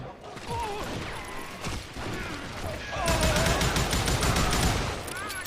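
Western-style shooter gunfire from Call of Juarez: Gunslinger: rapid bursts of shots crackle in a dense, loud volley that swells midway, mixed with game effects and background sounds.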